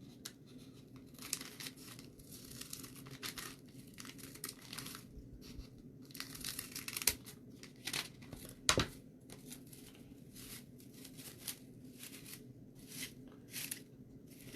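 French scissors snip through fan-folded paper for a craft corn stalk, giving repeated crisp cuts and papery crinkles up close, with quiet pauses between bursts and no talking.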